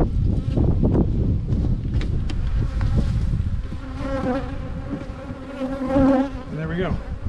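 Honey bees buzz around beehives in a bee yard, a dense close droning hum with individual bees whining past the microphone, against light wind noise.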